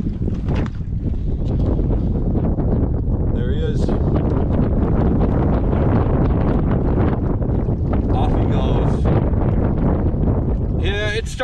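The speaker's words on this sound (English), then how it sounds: "Starting to just get too windy to fish out here." Steady, heavy wind roars across the microphone throughout, loud and close, with voices speaking briefly underneath.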